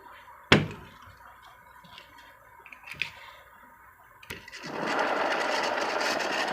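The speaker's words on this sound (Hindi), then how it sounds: "बहुत ही ज़्यादा सीलिंग फैन से आवाज़ आ रहा है, घरघराहट का, खर का आवाज़ बहुत ही ज़्यादा आ रहा है" A few scattered clicks and knocks, then a worn ceiling fan starts a loud, continuous grinding whir close by.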